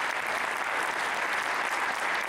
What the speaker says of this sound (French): vous pouvez vraiment les applaudir très fort